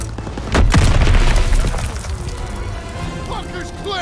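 A planted demolition charge blowing up a bunker in the World War II shooter Call of Duty WWII: one loud, close boom with a long rumbling tail, followed by scattered debris and battle noise.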